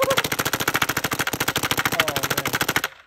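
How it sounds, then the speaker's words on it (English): A rapid, steady burst of automatic fire from a 2k2 Intimidator paintball gun rattles loudly for about three seconds, shots evenly spaced, then cuts off abruptly. "This thing's such a sweet gun, Robbie."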